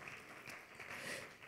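A church congregation applauds in a brief burst of soft, dense clapping that swells slightly before fading.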